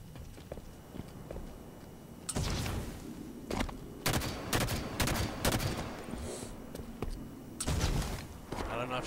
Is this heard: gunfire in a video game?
yes